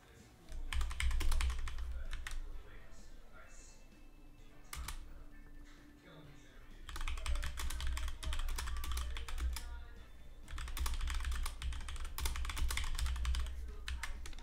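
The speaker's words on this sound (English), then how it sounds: "Sorry, you guys can probably hear all my aggressive typing." Close, rapid clacking of computer keys during a Pokémon Scarlet and Violet match comes in bursts separated by quieter pauses, busy and forceful.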